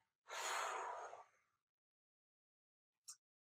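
A single deep, breathy exhale during a children's yoga session, loud and close, lasting just over a second and fading gradually, followed by silence and a faint brief click near the end.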